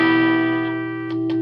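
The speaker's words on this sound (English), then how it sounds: "It's quite nice using valve distortion." A Victory Sheriff guitar amp pushes out valve distortion as a sustained, buzzing chord that slowly decays, with two brief picked notes near the end, up close and without talking.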